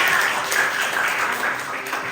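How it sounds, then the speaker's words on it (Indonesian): Students in a school classroom applaud a group after its hikayat presentation, brief steady clapping from the class with a faint voice underneath. "Dan tepuk tangan untuk kelompok 4."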